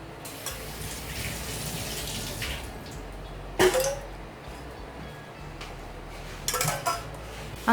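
Sugar syrup is poured over vermicelli kunafa, a faint, steady trickle of liquid with occasional soft clinks of a utensil against a dish, close by in a quiet kitchen.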